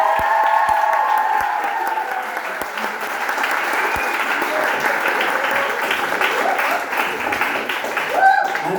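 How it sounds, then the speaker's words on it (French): A crowd at a church gathering applauds loudly and continuously, with full, close clapping and some cheering, while a voice speaks over the start and a few sharp knocks sound early on. "Un tonnerre d'applaudissements pour la technique."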